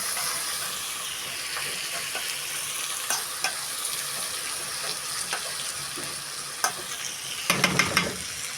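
Vermicelli noodles for Egyptian koshari fry in hot oil with a constant loud sizzle, stirred with occasional scrapes and taps, ending in a brief burst of clattering near the end; no one speaks.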